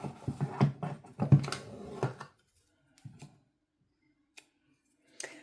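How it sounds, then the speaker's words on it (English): Scissors snipping the tail yarn of a hand-knit sock on double-pointed needles, a few quiet close clicks and cuts with soft handling rustle, then near silence with a faint tap. "I'm going to actually trim my tail yarn so it's a little shorter and not getting in my way so much."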